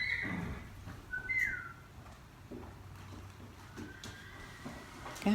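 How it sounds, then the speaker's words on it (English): A couple of short, bright whistles from a person greeting a horse ring out near the start, then quieter outdoor ambience with faint shuffling and distant bird-like chirps. "I greet my horse with a whistle"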